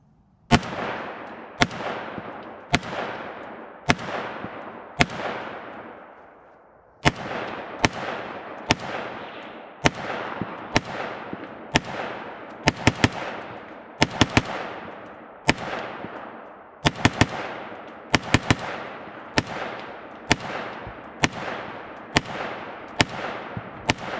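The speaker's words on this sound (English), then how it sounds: "Yeah, so this thing shoots pretty well." .300 Blackout AR pistol firing roughly two dozen sharp, loud gunshots, first in an evenly spaced string, then after a short pause in quicker, uneven groups, each crack ringing off briefly outdoors.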